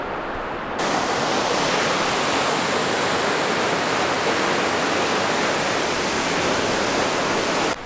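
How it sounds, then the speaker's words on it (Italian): Mountain waterfall at Maslana, an alpine valley where ibex roam, a steady loud broadband roar of falling water that starts abruptly and holds constant throughout, with no voices. "E guardate già che bella cascata."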